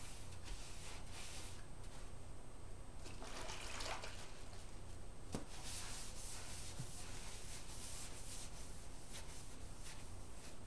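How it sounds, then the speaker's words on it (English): A salvaged window is washed down with pine cleaner and water, giving continuous wet rubbing and sloshing with occasional sharper scrubbing strokes. "the best thing to do, first of all, is to wash it down with some pine cleaner and water"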